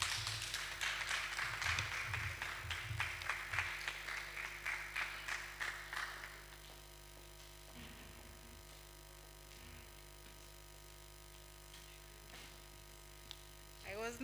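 Audience at a plenary session on women and investigative journalism applauds, a dense burst of clapping for the first six seconds that thins out into scattered claps over a steady electrical hum.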